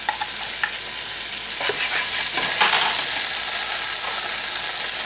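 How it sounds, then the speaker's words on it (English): Lao stir-fried noodles sizzle loudly in a hot pan as oyster sauce goes in, with steady frying hiss and occasional clinks and scrapes of stirring, close up and with no talk. "Put in oyster sauce."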